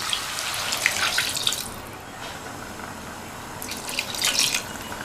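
Water splashes into a pot of basmati rice for biryani in two separate pours, a steady rushing trickle near the start and again toward the end with a quieter gap between, close up and with no talking.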